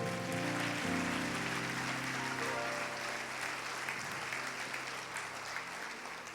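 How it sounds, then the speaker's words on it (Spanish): A church congregation breaks into sustained applause during a morning service, a broad, even clatter of many hands that gradually thins out. Sustained musical tones ring beneath it. "Den un aplauso a Jesús, por favor"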